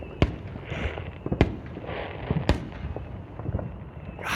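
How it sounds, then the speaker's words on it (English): Fireworks boom and crack all around at night, sharp loud bursts at irregular intervals, some near and some farther off, with a steady rumble of distant explosions filling the gaps between them. "You can just hear them just booming everywhere."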